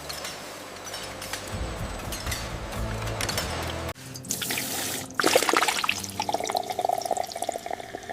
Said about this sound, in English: Each bottle is filled to the exact millimeter.